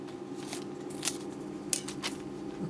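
Scissors snip through the fabric of a miniature salwar in a few faint, separate cuts over a steady low hum, with no talking.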